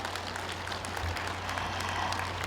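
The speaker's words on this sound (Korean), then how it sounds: "우리 전통 예인 집단 꾼에게 다시 한번 뜨거운 박수 부탁드리겠습니다" An audience claps warmly at an outdoor commemorative event honoring a traditional Korean performing troupe, a dense, steady wash of applause that fills the whole moment.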